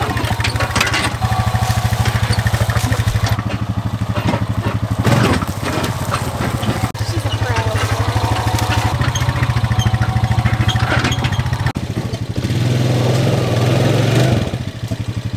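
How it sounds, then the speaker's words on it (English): A four-wheeler ATV engine runs loudly and continuously close by, its rumbling drone holding steady, then shifting pitch and load near the end. "I know how to drive a daggum four-wheeler."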